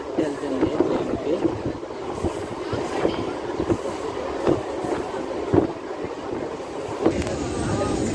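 Passenger train running between Tumkur and Yeshwanthpur in Karnataka, a steady rumble of carriages with recurring wheel clicks heard from on board, holding a continuous moderate level throughout.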